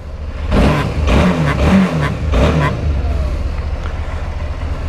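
A Suzuki V-Strom 650 motorcycle being ridden, its engine revving up in several pulsing surges with wind and road noise underneath, loud and close.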